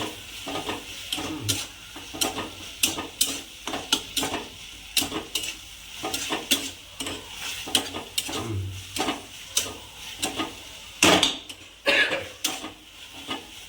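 Minced meat sautés in a pan as a spatula stirs it. Repeated scraping and clanking strokes in an uneven rhythm sound close by over a low continuous sizzle.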